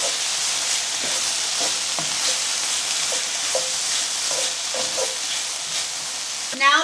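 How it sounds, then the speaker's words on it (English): Garlic sizzling steadily in a hot pan with onions and mushrooms, a continuous bright frying hiss with small pops and stirring scrapes, ending in a brief louder clatter. "we're going to add in a tablespoon of garlic, and we're just going to sweat it out, let it cook for a few seconds"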